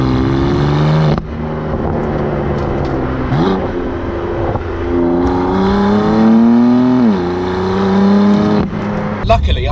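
A BMW M4 CS engine revs up and down, its tone climbing and falling across several pulls, loud and close, with a voice talking alongside.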